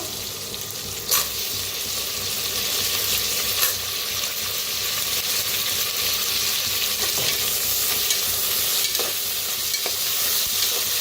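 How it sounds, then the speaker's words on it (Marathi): Potatoes are added to onions frying in a pan, giving a steady loud sizzle, with a few sharp clinks and scrapes from stirring. "कांदा हलकासा भाजत आलेला आहे, त्याच्यातच टाकूया बटाटो."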